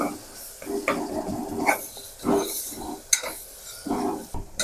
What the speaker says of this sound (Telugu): అల్లం వెల్లుల్లి పేస్ట్ మంచిగా ఆయిల్లో ఫ్రై చేసేయాలి